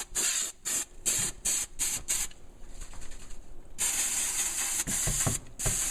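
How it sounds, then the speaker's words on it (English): Spray glue hisses from an aerosol can into a motorcycle saddlebag in several bursts, short repeated sprays early on, then a pause, then longer continuous spraying close by. "You're just going to spray right over those."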